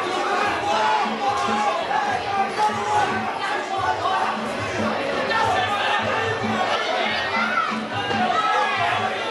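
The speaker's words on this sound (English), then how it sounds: "Too much delight with some of the crowd here this evening in the H Suite in Birmingham" Crowd at an evening K-Star academy kickboxing event in the H Suite in Birmingham, a busy, continuous mix of chatter, shouts and cheering that fills the room at close range, with talk in the mix.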